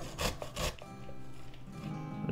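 Beetroot being grated by hand in a kitchen, giving a few rough rasping strokes close up before fading into quieter scraping, with no talking.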